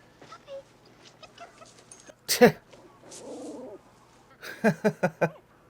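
A dog whimpers and whines in a scene from the 1983 fantasy film Krull, with several short, close yelps clustered near the end after a louder burst, over quiet background music and sound.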